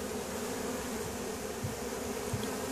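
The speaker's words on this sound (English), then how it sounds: "She's fanning to let the girls down the bottom know that, hey, the hive's this way" A honeybee fans her wings at the entrance of a five-frame nucleus hive holding a newly caught swarm, a steady close buzzing drone with no break or voices.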